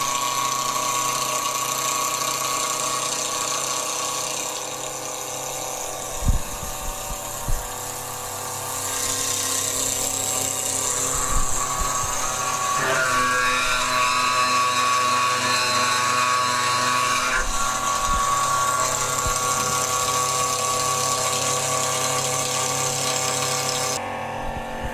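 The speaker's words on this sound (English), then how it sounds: "We now need to cut the lens. So you turn the machine on first" An optical lens edging machine cuts a spectacle lens, a steady high-pitched whine and grinding hum with occasional knocks, running continuously and close by.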